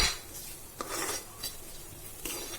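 Spices being stirred in a pan for pasta: a quiet scraping of a spoon against the pan, with a few soft clinks over about two seconds.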